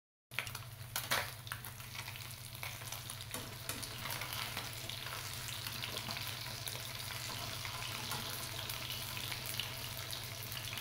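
Bitter gourd (ampalaya) frying in hot oil in a home kitchen for dinengdeng, a steady dense sizzle with oil splattering and occasional stirring clatter, close and continuous throughout.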